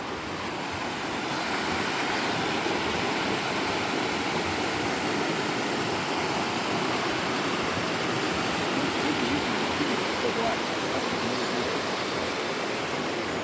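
A mountain stream rushes steadily through a valley in the Tatra mountains near Zakopane, a loud, dense, unbroken roar of flowing water filling the whole stretch, with no voices over it.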